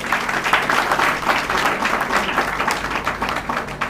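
Steady applause from a small crowd of guests at a civil wedding ceremony, dense continuous clapping, fairly close and even throughout.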